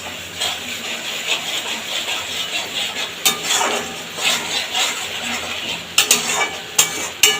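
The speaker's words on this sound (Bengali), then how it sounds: "বেশ সময় ধরে কষাতে থাকবো মশলাটাকে" Spice masala for a Bengali pakal (eel) fish curry being sautéed in oil in a pan: a steady wet sizzle with continual scraping strokes of a spoon against the pan, and a few sharper metallic knocks near the end.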